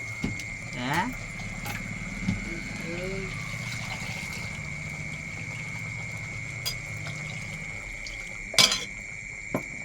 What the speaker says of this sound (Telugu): నువ్వు వాటర్ వేయాలి కదా ఫస్ట్. కొంచెం వేస్తాను ఎక్కువ.